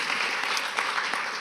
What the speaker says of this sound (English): you can applaud yourself